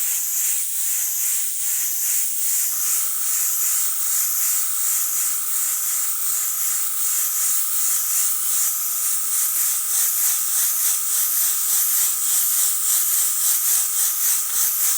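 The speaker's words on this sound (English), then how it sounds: "start spraying this color in the highlight sections for the side of this cylinder" A continuous airbrush hiss sprays steadily at close range, bright and airy, broken only by a faint rattle near the start.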